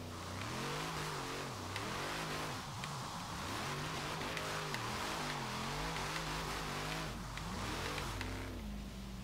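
A car engine in the racing game Forza Horizon 3 revs and accelerates steadily through the gears, the pitch climbing and dropping with each shift, loud and continuous for the whole stretch with no talking.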